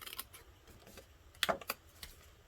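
Small rectangles snipped out of paper with scissors while making a lip balm gift box: faint, sparse clicks and rustles, then a couple of sharper cuts close by, with no speech.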